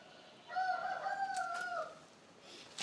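A rooster near a house gives one long, drawn-out crow at moderate distance over quiet background noise.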